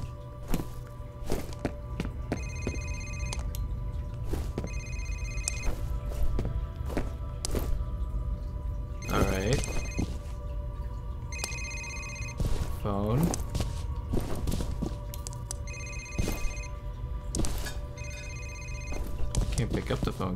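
A telephone rings repeatedly in the F.E.A.R. video game, regular clear electronic ring bursts with pauses between, alongside footsteps, thuds and someone talking over it.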